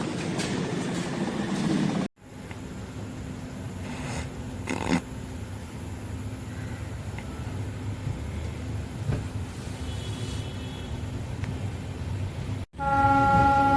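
Continuous low rumble and rattle from aboard the Pandian Express train (12637) from Chennai to Madurai, steady and enclosed, with occasional faint clacks and a brief sharp break near the end.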